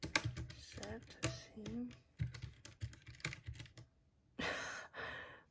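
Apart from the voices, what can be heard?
typing on keyboard without keycaps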